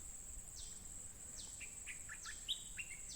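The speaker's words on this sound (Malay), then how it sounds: "Burung Merbah Kapur pun." A wild Merbah Kapur bulbul calls in the open, several quick bright whistled notes and short phrases in succession, clear but not very close, over a faint steady insect hum.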